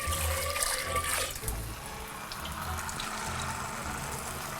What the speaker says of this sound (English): I'm gonna fill this up with a little bit more water to get the remaining pasta off the bottom.